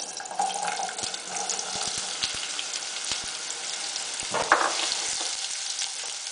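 Diced onions frying in grapeseed oil in a pot, giving a steady close hiss, with a few sharp clicks and knocks of a utensil scattered through it.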